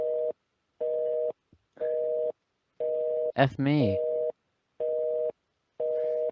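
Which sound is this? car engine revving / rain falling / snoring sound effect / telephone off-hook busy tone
telephone off-hook busy tone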